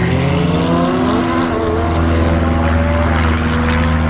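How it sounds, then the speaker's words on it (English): Propeller airplane passing overhead at a car show, a loud steady drone with shifting tones throughout, sounding alone. "Interrupted by the plane."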